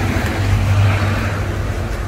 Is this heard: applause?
no